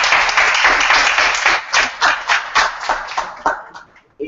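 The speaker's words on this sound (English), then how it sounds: "So big applause for Tracy." A small group at a Toastmasters club meeting claps. The applause starts as a dense burst, then thins into separate claps that fade away before a brief sound at the end.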